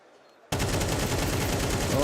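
Rapid bursts of MP9 submachine gun fire in a Counter-Strike match at a BLAST Premier tournament, loud and continuous after a brief quiet start, with a commentator's voice faintly under it.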